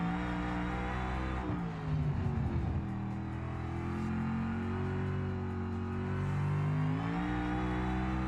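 An 1800-horsepower car engine in BeamNG drones loud and steady close by, its pitch sliding up and down through revs and shifts, with a short rougher burst partway through.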